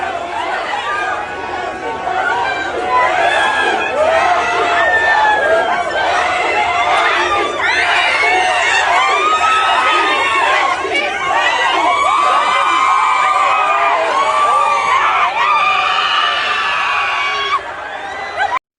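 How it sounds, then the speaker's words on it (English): A large, excited crowd of fans greeting a celebrity at a São Paulo, Brazil airport, with dense screaming, shouting and chatter held at a steady loud level, several voices cheering over the din almost throughout. "It's a lot of screaming. That's really all you hear."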